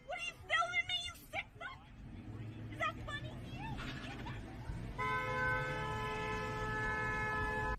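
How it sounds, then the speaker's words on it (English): A car horn sounds amid busy street noise during a chase, with steady horn-like tones holding through the latter half over rumbling traffic and voices. "honking that horn, coming in hot"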